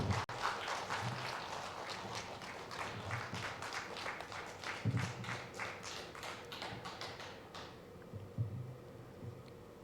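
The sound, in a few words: church congregation applause welcoming a pastor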